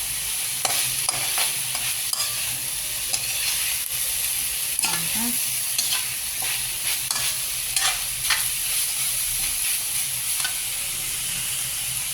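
Food sizzles steadily in a hot pan while a utensil stirs it with repeated scraping strokes, close and fairly loud, with no talking.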